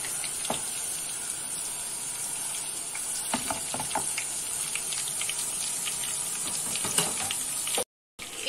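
Dried red chillies sizzle in hot oil for a tadka meant for kadhi with pakoras, giving a continuous crackling hiss dotted with sharp pops and spatters.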